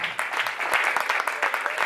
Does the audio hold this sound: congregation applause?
yes